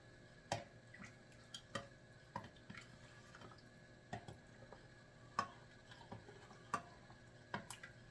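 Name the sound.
stirring bouillon broth with a ladle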